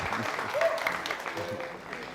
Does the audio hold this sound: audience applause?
yes